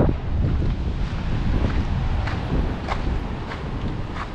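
Strong gusty wind buffets the microphone at an exposed coastal headland near a whaling hut and stone tower, a steady loud rumble with brief gust swells and no talk.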